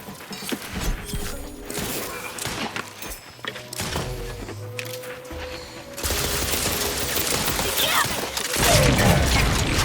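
Sustained gunfire from a sci-fi firefight in The Outer Worlds 2 on PC, with bursts of shots, heavy booms and mechanical clatter layered over game music, growing denser and louder toward the end.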